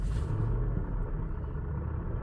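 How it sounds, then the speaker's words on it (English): A car making an odd rumbling noise, heard from inside as a steady low, throbbing drone that stays fairly loud and constant throughout, with no talk over it. "this is the sound that my car is making."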